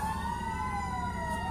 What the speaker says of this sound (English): a freaking ambulance coming up to slow me down